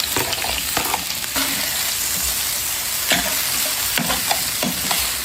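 Liver with potatoes and carrot frying in olive oil, a steady dense sizzle throughout with occasional stirring clicks and scrapes rising above it, close and fairly loud, no talk.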